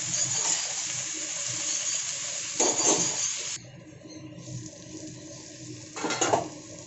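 Mixed vegetables for a labra fry in a kadai with a steady, close sizzle, broken by louder scraping stir bursts at a couple of points, with no voices.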